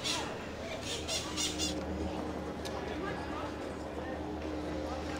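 Parrots in Alice Springs squawk in a few sharp, shrill bursts near the start, then fade into a steady outdoor background while someone narrates over them.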